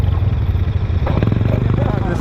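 An adventure motorcycle on a rally trail rumbles steadily at close range, its engine droning with a rising surge partway through, and a voice talks over it.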